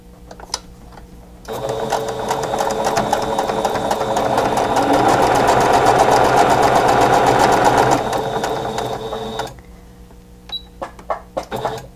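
A sewing machine stitches a quilt block seam, a loud, close, continuous motor whir with rapid needle chatter running for several seconds, with light clicks and fabric handling on either side.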